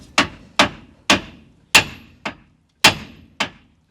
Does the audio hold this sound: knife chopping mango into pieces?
no